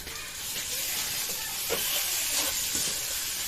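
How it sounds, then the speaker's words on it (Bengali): Ginger, garlic and cumin paste frying in oil in a pan, a loud continuous hissing sizzle with a few brief scrapes and knocks close by. "এবার আদা রসুনের এই কাঁচা গন্ধটা না যাওয়া পর্যন্ত মশলাটা ভেজে নেব"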